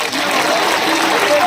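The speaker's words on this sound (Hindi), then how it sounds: "तालियां थोड़ी कम बजी।" A crowd at a political rally in Ashoknagar claps in steady, moderate applause, a dense even patter that stays fairly loud throughout with no clear peaks.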